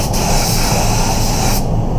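A paint spray gun hisses steadily and loudly at close range while coating a Mazda MX5, the continuous spray cutting out near the end.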